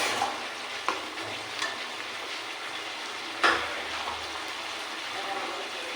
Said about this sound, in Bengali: দিয়ে সমস্ত মশলার সাথে মশলা আরেকটু ভালো করে কষিয়ে নেব।